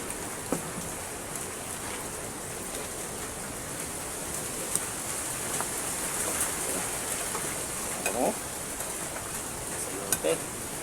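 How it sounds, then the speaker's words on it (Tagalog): Steady rain hissing on surfaces with a broad, gusty noise underneath, occasional brief knocks and drips standing out over the constant wash, during a strong typhoon. "Ang lakas ng hangin at saka yung ulan."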